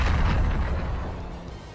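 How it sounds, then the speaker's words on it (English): Massive explosion in the Ark Ranger video game: a deep, loud rumbling boom that starts strong and slowly fades over a couple of seconds, with no voices. "A massive explosion engulfs the area."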